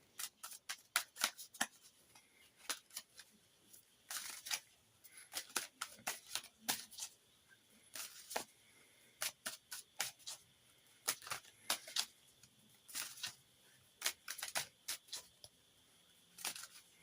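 Tarot and oracle cards, including a Seasons of the Witch Samhain Oracle deck, are shuffled close up in repeated quick riffling bursts separated by brief pauses, soft and without speech.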